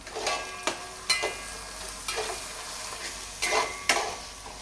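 Mutton keema with ginger garlic paste and green chilies stirred in a pan, several sharp spoon scrapes and clinks over a light sizzle, close by, with pauses between strokes.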